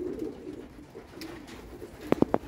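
Pigeons coo inside a loft: a soft low murmur at first, then three short, distinct coos close together near the end.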